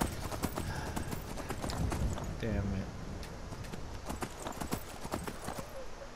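A horse's hooves clop in a steady rhythm as it moves through a video game, loud and continuous under someone talking and game sounds.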